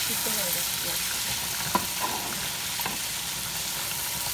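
Chopped onions frying in a pan for salmon curry, a steady, bright sizzle throughout with a few soft stirring clicks.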